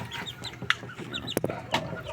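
Young Shamo Japanese chickens, a male and a female sharing a crowded coop, cluck and chirp in quick, close bursts with a few sharper calls.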